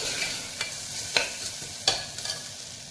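Barley porridge (jau dalia) roasting in a pan, a faint low sizzle with a few sharp scrapes of a spoon stirring, quiet and close with no voices.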